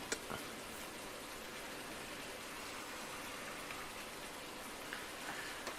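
Steady rain from the video game Farming Simulator 19, a constant faint hiss of falling drops with a few small taps, continuous and without voices.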